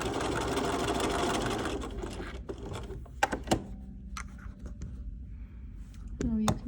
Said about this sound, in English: I'm gonna sew all the way up to this pink line of stitching right here